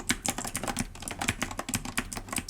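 A compact Bluetooth keyboard is typed on rapidly, giving a close, steady patter of light plastic key clicks with no talking.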